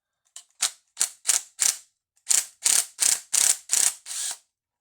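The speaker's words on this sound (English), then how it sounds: "You get your trusty impact and you carefully take it out." Impact wrench on a McCulloch MC49 chainsaw engine rebuild, firing in ten short, sharp bursts: four quick rattles, a brief pause, then five more and a slightly longer final burst, loud and close with no talking.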